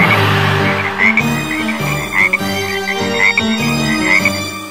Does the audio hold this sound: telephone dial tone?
no